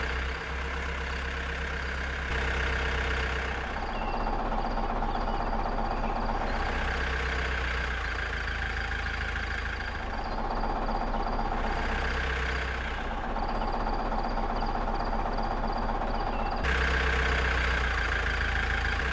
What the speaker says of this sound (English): As the machine moves forward, these belts gently lift the carrots from the ground.